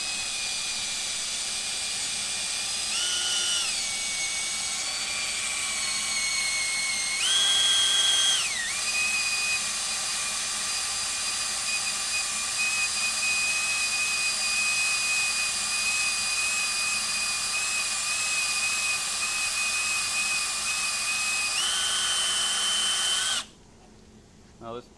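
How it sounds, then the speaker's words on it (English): A 3/8 step drill bit, dull and run without cutting oil, bores through metal while fitting a Summit Hydraulics diverter, giving a steady close whine of a power drill with brief pitch shifts, continuing for about 23 seconds before cutting off. "So I'm going to go to 3/8 on my step bit, and it should go all the way through."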